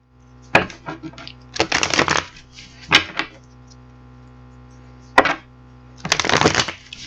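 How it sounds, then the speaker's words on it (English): Bursts of riffling and flicking as a deck of cards is shuffled, several short crisp clusters separated by quiet pauses, close by. "let's get these cards shuffled up"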